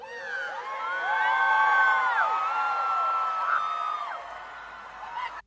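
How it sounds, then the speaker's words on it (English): A studio audience bursting into loud cheering and whooping, rising quickly, holding strong for a few seconds, then tapering away near the end. "What are they cheering for?"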